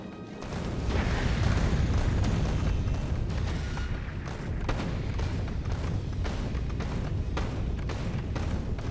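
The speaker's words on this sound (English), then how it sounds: "with explosive rockets, we're going to shatter these asteroids very handily" Explosive rockets in Factorio shatter asteroids with a dense, continuous barrage of deep booms and overlapping bursts, loud and rumbling, no talking over it.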